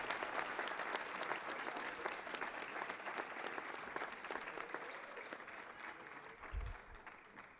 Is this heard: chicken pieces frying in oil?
no